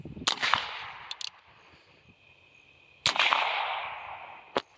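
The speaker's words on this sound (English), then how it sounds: "with the revolver, starting off with the Standard Velocity, then followed up with the Quiet 22" Two sharp .22 revolver shots about three seconds apart, standard velocity then subsonic rounds fired at a car hood, each a crisp crack followed by a long ringing decay, with small clicks between.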